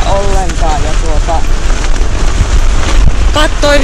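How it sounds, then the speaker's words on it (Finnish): Stormy wind in the Inari wilderness of Finnish Lapland gusts as a loud, constant roar and rumble of buffeting, with a voice speaking intermittently over it. "eikä tämmöistä myrskyä luvattu"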